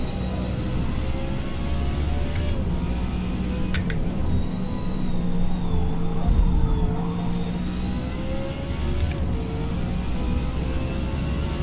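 Race car engine held at very high RPM in Forza Motorsport S Class racing, a steady sustained whine with rising and falling tonal lines, loud and continuous throughout with no talk.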